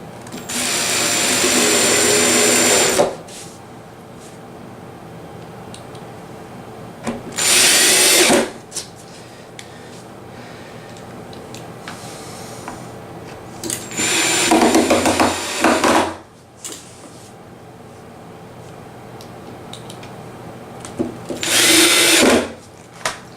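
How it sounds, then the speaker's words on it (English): Power drill driving screws into a wooden arcade cabinet: four separate loud whirring bursts, each a few seconds long and grinding into wood, with quiet gaps and faint handling noise in between. "all I gotta do is put the screws in here"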